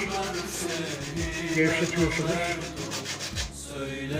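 Sandpaper scrubs grease and grime off a kitchen stove in quick back-and-forth rasping strokes, a steady rhythmic rubbing up close, with someone speaking briefly over it.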